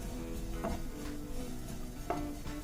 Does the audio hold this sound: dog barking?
no